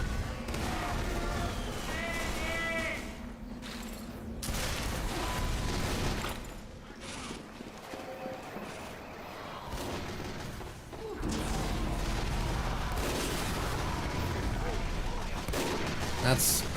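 Sniper rifle shots ring out in Team Fortress 2 on the Overgrown map, a few sharp cracks scattered among dense game noise and bursts of mechanical clatter, with someone talking over parts of it.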